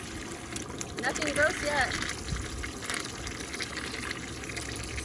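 Water pumped through a tankless water heater during descaling, a steady rushing gush with a faint pump hum beneath, while a person talks over it.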